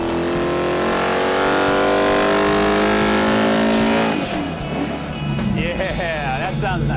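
A 1974 Dodge Challenger pro touring build rumbles at a smooth, loud idle nearby, then the engine note shifts and the throttle is blipped, with people talking over the sound.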